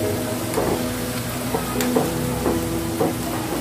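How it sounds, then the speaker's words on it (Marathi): Bread rolls fry in hot oil with a steady close crackling sizzle and a few light clicks from turning them over; no one speaks. "आता खालच्या साइडने देखील हे छान तळून घेऊयात"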